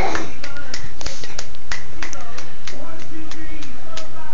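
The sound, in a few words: child clapping hands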